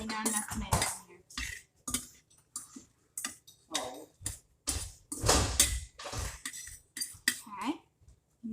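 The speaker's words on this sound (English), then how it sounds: "All you gotta do, just mix it up. Mix it and mix it and mix it." Feta pasta with tomatoes is mixed in a dish, giving repeated clinking and scraping utensil strokes in an uneven rhythm, close up and interleaved with a person talking.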